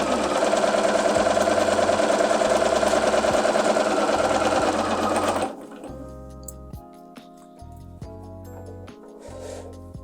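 A sewing machine runs a quarter-inch seam on small pieced Christmas ornament blocks, a loud steady mechanical whir for about five seconds that then stops, leaving soft handling clicks and rustles with no speech.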